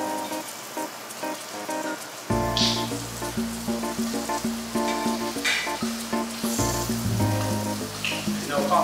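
Olive oil sizzling in a pan over medium heat, a steady crackling hiss that starts abruptly after a quiet opening and carries on with a tonal musical bed underneath.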